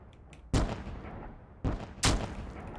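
Turrets fire in the tower defense roguelite Hope's End, three sharp booming gunshot-like blasts ringing out loudly at uneven intervals, each with a short decaying tail and no talking over them.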